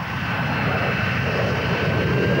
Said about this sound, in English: Harriers almost always make a short rolling takeoff, though with a restricted load, they could lift off vertically.